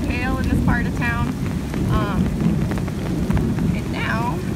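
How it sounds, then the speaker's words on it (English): Heavy rain pours down steadily during a New Orleans thunderstorm with pea-sized hail earlier and flooded streets, a loud, dense wash with wind buffeting the microphone and some high chirping sounds above it. "this was a storm that really started just about an hour and a half ago and just really started coming down hard"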